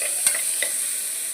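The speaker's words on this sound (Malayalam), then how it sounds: "സവോള, പെരുംജീരകം, കറുവപ്പട്ട ഇത്രയും ചേർത്ത് വഴറ്റിയെടുക്കുക." Onion, fennel seeds and cinnamon sautéing in a pan give a constant high hiss of frying, with a couple of brief spatula knocks near the start and no one speaking.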